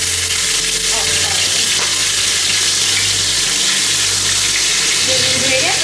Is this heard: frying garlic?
yes